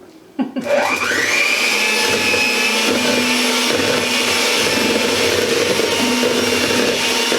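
An electric mixer spins up and runs continuously in cookie batter with eggs, a loud close whine with a steady motor hum and occasional scraping against the bowl, with no talking.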